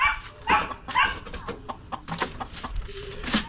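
Chickens clucking nearby, a series of short uneven clucks and squawks, loud and close at first and then thinning into scattered calls.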